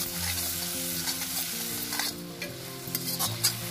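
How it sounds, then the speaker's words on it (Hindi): Spice paste for kala chana sizzles in hot oil in a pan while being stirred, a dense close crackle with scraping stir sounds, no talking. "अब मसालों का पेस्ट डाल देते हैं।"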